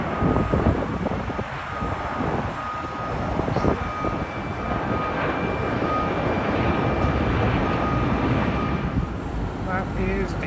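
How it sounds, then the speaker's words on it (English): A British Airways Airbus A350 jet arriving at Heathrow, a steady broadband engine roar with wind noise holding continuously at moderate loudness throughout. "British Airways Airbus A350 in from Vancouver."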